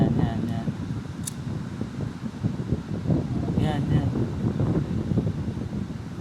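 Seaside wind buffets the microphone with a steady, rough rumble during an outdoor birthday gathering, while faint voices murmur underneath.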